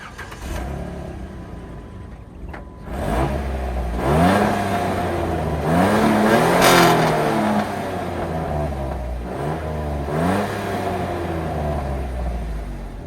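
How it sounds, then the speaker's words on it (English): A 2010 Jeep Wrangler Sport V6 engine with standard exhaust cranks briefly and catches, then settles into a steady rumbling idle with a couple of light revs rising and falling, close and loud. "It sounds like a regular V6."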